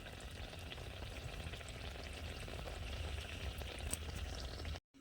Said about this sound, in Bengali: এইভাবে কিন্তু আমি সবগুলো ভেজে নেবো